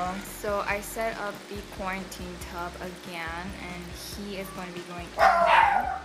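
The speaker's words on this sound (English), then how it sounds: "sorry about my dogs barking." Dogs bark indoors in the background around a freshwater aquarium setup, a brief louder burst near the end, largely under steady talking.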